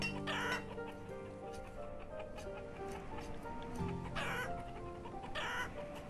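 Chickens cluck repeatedly in the village-building game Banished, their calls layered over a busy in-game ambience with light ticking and occasional brighter bursts.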